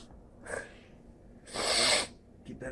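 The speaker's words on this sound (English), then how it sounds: "I gotta sneeze." A single sharp sneeze bursts out close by after a brief sniffing intake, followed by a short breath; no talking.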